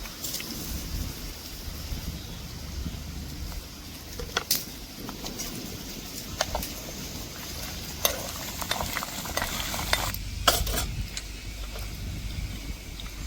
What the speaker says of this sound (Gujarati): તલ, વરિયાળી, આખું જીરું, લાલ મરચાં, કસૂરી મેથી એ આપણે વઘારમાં નાખી દઈશું